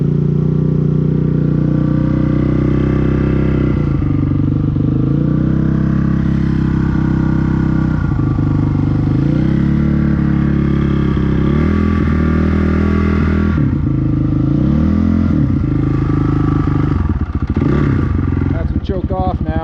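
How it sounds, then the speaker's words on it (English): A Honda CRF450R dirt bike engine runs steadily just above idle during break-in, a loud, continuous low throb with small shifts in pitch, while a person talks over it. "First time we gotta do a break-in. Keep it just above idle."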